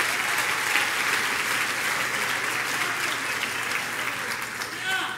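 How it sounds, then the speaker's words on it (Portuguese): A round of applause from a large audience at a church leadership talk, steady and full for about five seconds with no voice over it. "Pode dar uma salva de palmas."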